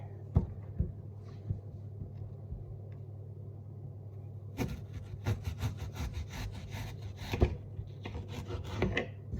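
A knife chops through apple on a board for a chocolate apple cake, with sparse separate cuts at first and then a quicker run of crisp, close chopping strokes.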